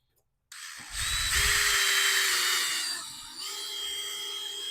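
Power drill fitted with a masonry bit boring out broken fasteners from a vinyl shutter, a loud close whine that rises as it bites, then eases and continues steadily.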